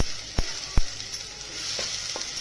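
Onions and tomatoes sautéing in hot oil for a spicy mackerel curry give a steady close sizzle, punctuated by a few sharp clicks and scrapes of stirring, with no talking.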